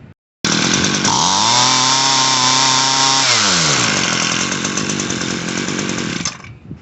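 Small two-stroke engine of a Ryobi RY28120 string trimmer, after carburetor and fuel line repair, running loud and close with a steady buzz that briefly bogs and shifts pitch before holding a high idle and cutting off.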